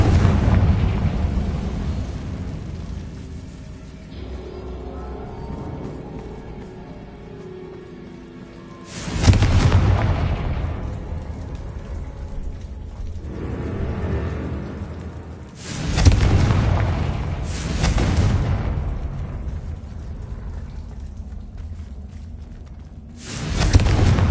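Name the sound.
explosion from Confringo blasting spell in Hogwarts video game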